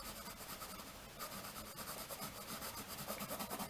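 Graphite pencil shading across paper while tightening up a drawing's form: a steady, faint scratchy rubbing texture that continues without pause, heard up close and alone.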